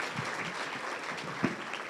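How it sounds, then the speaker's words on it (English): A crowd clapping steadily and continuously at a school district event, a dense wash of applause from many hands at moderate distance. "Round of applause for our communications team"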